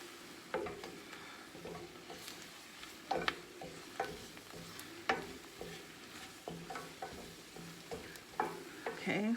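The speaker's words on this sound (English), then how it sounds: "Just gonna stir this around a bit more." Spoon stirring bubbling chicken pot pie filling in a pan, with soft scraping strokes and irregular clicks over a low sizzle, close and fairly quiet, with no talking.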